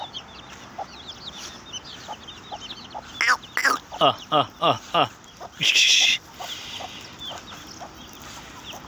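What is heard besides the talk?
chicken clucking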